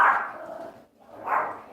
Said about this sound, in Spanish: le ladran a mi esposo como bajan las muletas